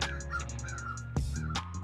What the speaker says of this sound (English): These birds.